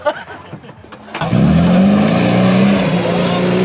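A historic military vehicle's engine catches after a quiet start and settles into a loud, steady roaring rev close by, with the pitch climbing slightly as it holds at a raised idle, at a historic military vehicle rally in Darłowo.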